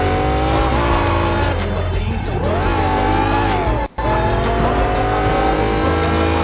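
Loud, continuous engine drone from a car in the open-world game Sleeping Dogs, with rising and falling revs and long tire squeals as it skids through turns, plus one brief cut in the sound.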